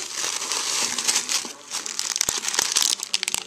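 Paper packaging crinkles and crumples loudly and close up as a gift is unwrapped, with quick rustling bursts and sharper crackles toward the end, and no talking.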